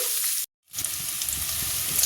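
Potato pieces fry in hot oil with salt, a bright continuous sizzle that drops out briefly for a moment and then resumes steady and close, with faint stirring underneath.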